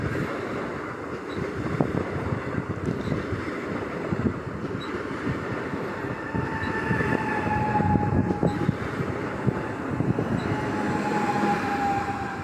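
An Intercity train pulls into Warszawa Wschodnia station in Warsaw with a continuous rumble and rolling noise. Faint tonal squeals and a station announcement tone come and go in the background.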